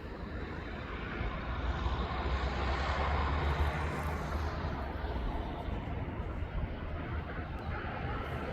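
Ryanair airliner being pushed back from the departure stands at East Midlands Airport: a steady broad engine and ground-equipment rumble, fairly constant and moderately near, with no clear speech over it.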